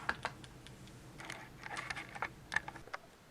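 A rotary cutter trims the outside edge of a quilt, giving soft, scattered crunching strokes and clicks close by, quiet and irregular with short gaps.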